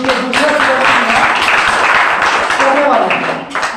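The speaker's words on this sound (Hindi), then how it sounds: "एडिसन साहब के लिए भी ताली बजाइए" An audience at a Rampur MLM business meeting breaks into loud, sustained clapping and applause for Edison, with a voice talking over the crowd.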